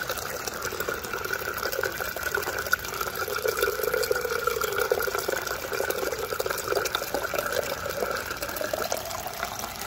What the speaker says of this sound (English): As you can see, the water level is filling up in the pipe.